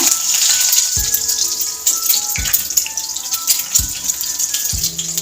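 Boiled eggs frying with pepper in hot oil, a steady loud sizzle with spluttering pops and a few sharp crackles every second or so, with no talk.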